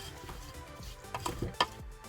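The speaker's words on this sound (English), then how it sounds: "Take my spoon, I'm going to just mix it up." A spoon stirs a slow cooker Italian beef mixture, giving soft scrapes and a few wet clinks that build to a sharper knock near the end, quiet and close with no talking.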